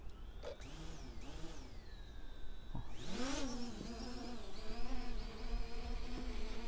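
An Eachine EX1 drone in flight, its propellers giving a steady high-pitched buzz that swoops and shifts in pitch as it manoeuvres outdoors in a slight breeze, close and continuous throughout.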